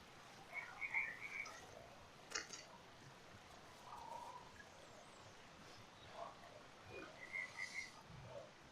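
Faint background frog croaks from the dinosaur survival video game The Isle, a few soft scattered calls over a low ambient bed.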